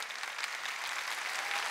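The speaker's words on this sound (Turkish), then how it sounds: "Koca bir alkış." Big applause rises from the audience at a folk dance competition, a thick, continuous burst of many hands clapping with no pause.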